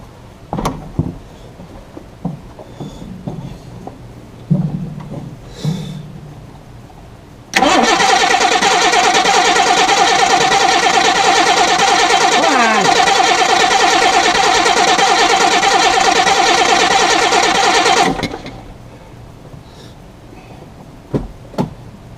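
An engine cranks and churns loudly and steadily for about ten seconds as someone tries to start it after wiring positive power straight to the coil, with quiet clicks and handling noises before and after.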